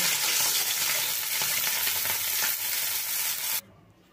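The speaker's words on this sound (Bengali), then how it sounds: "মাছটা ভাজা হয়ে গেছে, আমি তুলে নিয়ে বাকি দুটো মাছও ভেজে নেব।" Tilapia fish frying in oil in a pan, a loud steady sizzle with crackling spatter that runs continuously and then drops away abruptly near the end.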